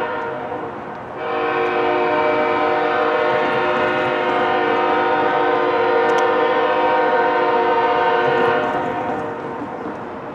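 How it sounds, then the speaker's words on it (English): Union Pacific manifest freight train with a K5HL horn on the lead locomotive, the horn sounding one long, loud, continuous chord for about seven seconds over the rumble of the passing train. "Finally, a normal train showed up, a Union Pacific manifest with a fantastic K5HL"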